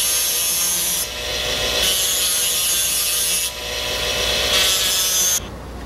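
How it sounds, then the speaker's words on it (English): A rotary cutting disc dresses down excess metal on a dental casting in a lab, giving a steady, loud high-pitched grinding whine that rises and dips in intensity over several passes, with no talk. "any remaining excess is dressed down with the disc."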